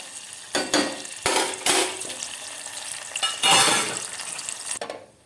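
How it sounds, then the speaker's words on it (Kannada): Peanut curry with tamarind simmering in a pot: soft bubbling and sizzling, repeatedly broken by loud scraping stirs and clinks of a utensil against the pot, with no talking. "ಈ ಹುಣಸೆ ಹುಳಿ ಹಾಕ್ಕೊಂಡು ಒಂದು ಕುದಿಯಕ್ಕೆ ಬಿಟ್ಟಿದ್ದೀವಿ"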